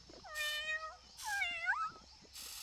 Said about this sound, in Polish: No tak, ale on mówi jak kot.